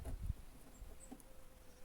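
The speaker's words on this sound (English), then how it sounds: "I don't know if you can hear the bee." A bee buzzing faintly nearby outdoors, a thin, steady drone with a soft bump or two near the start and no talking.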